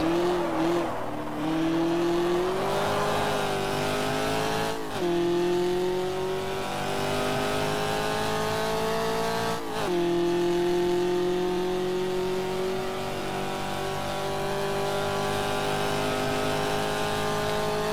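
A 1966 Trans Am race car in the video game GTR2 at Sebring roars steadily at high revs down a straight, loud and continuous with two brief dips as it shifts gears, no voices.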